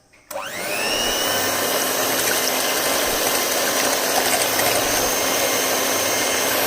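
A handheld blender beats eggs for a caramel custard, starting abruptly and then holding a loud, steady whirring drone with faint rattling from the bowl. Nobody speaks.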